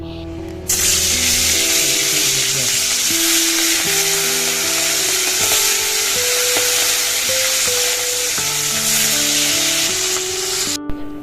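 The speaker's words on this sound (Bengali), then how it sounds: "এবার এখন মাছগুলো ভেজে নিই" Hilsa fish pieces go into hot oil in a wok and set off a loud, continuous crackling sizzle that lasts the whole stretch. Soft background music plays underneath.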